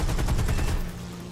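Aircraft guns firing in the video game War Thunder from an XP-38G fighter: a close, rapid staccato burst of about a dozen shots that cuts off abruptly, leaving a low engine drone.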